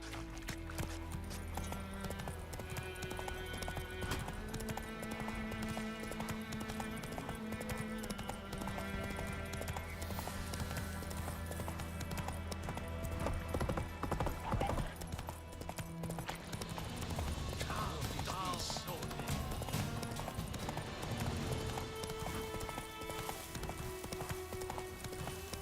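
Hooves of the horse Roach clip-clopping in The Witcher 3, a steady rhythmic gallop over a continuous bed of game music, moderately loud and unbroken throughout.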